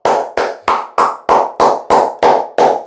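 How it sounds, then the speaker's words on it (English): Nine sharp, evenly spaced claps ring out, loud and close, each with a short decay. "Overall, defense, Anthony Weaver, round of applause to y'all."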